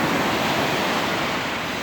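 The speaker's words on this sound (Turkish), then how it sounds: "Çekiyorum dalgaları" Sea waves wash onto the shore at Samsun as a steady, loud broadband roar, close to the microphone and mixed with wind buffeting, with no voices.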